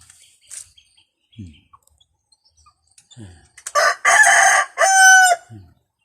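A rooster crows two loud, close, drawn-out calls near the end, with soft clucks and scattered small clicks from fowl before them.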